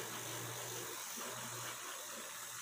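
The repaired motor of an e-bike runs steadily, spinning the wheel with a constant mechanical hum and faint whirr, low in level, with no voices.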